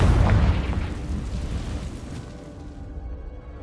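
A Confringo fire spell from Hogwarts Legacy bursts with a loud, deep boom at the start, then a rumbling, crackling tail slowly fades over a few seconds.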